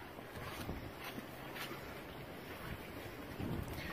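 Wind buffets the microphone outdoors at a French drain work site, a continuous loud rushing roar with gusty swells and no talk.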